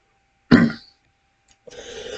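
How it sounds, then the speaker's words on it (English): One short, sharp cough up close, followed after a pause by a softer throat-clearing rasp. "I just have a really frustrating cough"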